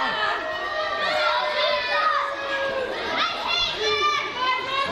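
A pro wrestling crowd voices disapproval of underhand tactics, a dense wash of loud crowd noise with shouting voices rising and falling steadily throughout, close and continuous.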